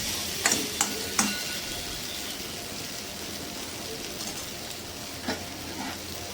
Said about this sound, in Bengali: গরম করে জল রেখেছিলাম গরম জল পরিমাণ মতো দিয়ে দিতে হবে